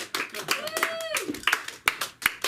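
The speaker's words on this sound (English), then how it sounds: "So give a warm round of applause for Leo." Sparse clapping from a small comedy open-mic audience, distinct individual hand claps in an uneven rhythm, with a whoop or voice cutting through near the middle.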